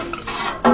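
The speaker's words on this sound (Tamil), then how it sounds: "பாட்டி பாருங்க கறி கிளறிட்டு இருக்காங்க." A large pot of meat curry made with small onions is stirred with a metal spoon, giving a few brief close clinks and scrapes, the loudest at the end.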